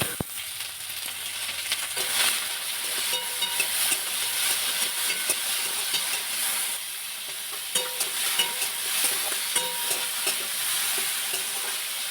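Sliced vegetables fry in a pan with a continuous bright sizzle, and scraping stirs come and go close by throughout.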